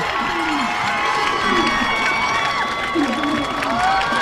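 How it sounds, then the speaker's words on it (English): A high school football crowd cheers and roars after a Lancers touchdown in a Bellingham vs Norton game, a steady loud wash of voices with shouts rising above it throughout. "The crowd is going wild."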